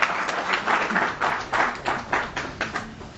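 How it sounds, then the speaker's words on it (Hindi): Audience at a literary society's annual function clapping in bursts, a group applauding in roughly rhythmic surges that swell and fade several times, fairly close and without talk over it. "आप लोग तालियां कम बजा रहे हैं, एक्यूप्रेशर हो जाएगा, तालियां अच्छे से बजाएं।"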